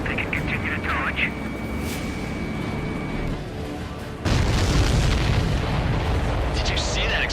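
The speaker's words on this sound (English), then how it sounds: "Did you see that explosion?" An enemy aircraft blows up in the Ace Combat 7 flight game: a droning jet engine and whining tones give way to a sudden loud, rumbling explosive blast that roars on to the end.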